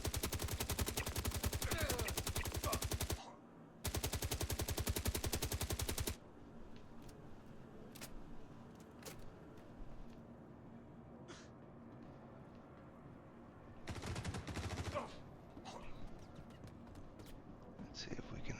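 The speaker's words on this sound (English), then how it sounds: "there's somebody up there with a large machine gun" Large machine gun in Star Citizen's bunker mission firing long, rapid bursts: two sustained volleys separated by a brief pause, then a later shorter burst, with quieter distant shots and game ambience in between.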